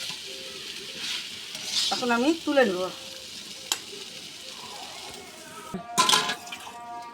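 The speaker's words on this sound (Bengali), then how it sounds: "এরকম করেই পাটের শাক ভাজা।" Jute leaves fried and stirred in a pan give a steady soft sizzle with scraping stir strokes, broken by a short spoken remark and a brief clatter near the end.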